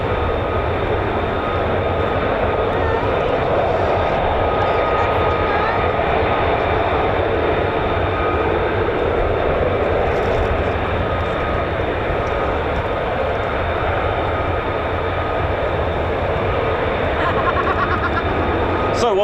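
A fighter jet with a Pratt & Whitney F135 engine at an air force base, a loud, steady roar that fills the whole stretch, with someone talking over it.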